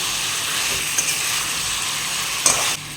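Chopped potatoes fry in hot oil in a pan while being stirred, making a loud, steady, close-up sizzle that runs unbroken and drops slightly in level near the end.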